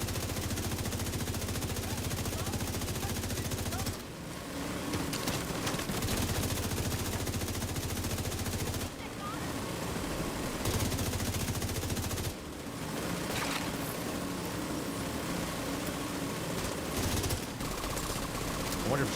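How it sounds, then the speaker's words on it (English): A Gatling gun in The Division 2 fires in long continuous bursts, a dense mechanical roar broken by a few short pauses, loud and sustained across the whole stretch. "someone firing the Gatling gun for 10 minutes"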